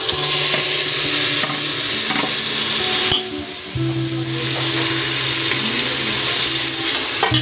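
Tomatoes added to onion, ginger and garlic frying for paneer and pea biryani, giving a loud, continuous close sizzle with stirring scrapes, a brief dip as the tomatoes go in, then steady frying again.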